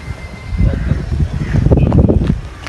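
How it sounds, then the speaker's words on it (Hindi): Strong wind gusts buffet the microphone outdoors, a loud rumbling roar that swells and churns in rising bursts, with faint voices underneath. "क्योंकि तेज हवा है ना"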